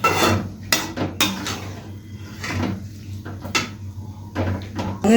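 A spoon scrapes and knocks against a pan while potato masala for puri is stirred, giving irregular rasping strokes and clinks with a low hum beneath.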